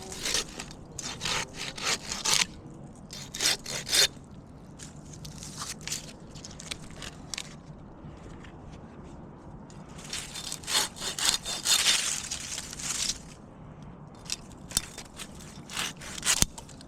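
Hand saw cutting through smaller Leyland cypress branches during a tree removal, with bursts of rasping back-and-forth strokes, a pause in the middle, then a longer run of steady sawing, close and alone.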